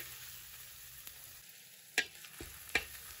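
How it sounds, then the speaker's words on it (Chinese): Aromatics stir-fried in a wok over low heat, a faint, gentle sizzle with two or three sharp spatula knocks against the metal, quiet and close, no voices. "把它们煸炒出香味。"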